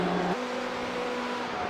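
BMW and Ferrari race cars in the iRacing sim at Daytona, a steady engine drone that shifts pitch partway through as one car changes gear, heard alone at moderate level.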